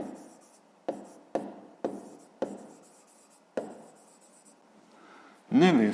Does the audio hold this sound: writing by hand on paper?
yes